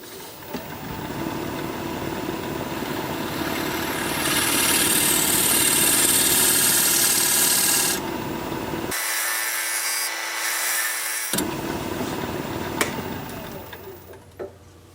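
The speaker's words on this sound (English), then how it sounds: "what this does is cuts a dovetail on the inside of the recess so the jaws grab it securely" A recess tool cuts a dovetail recess into a workpiece spinning on a wood lathe, giving a continuous scraping, rubbing hiss over the low whir of the motor, with a brief drop in the cutting sound partway through.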